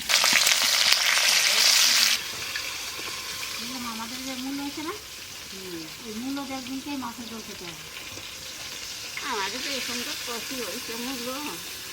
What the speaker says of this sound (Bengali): আমাদের বাড়ি আমরা একটু কড়া মাছ ভাজা খাই সেই জন্য মাছটা আমরা একটু কড়া ভাজা দিই